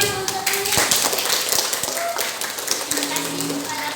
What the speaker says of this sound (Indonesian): Ya, tepuk tangan untuk ini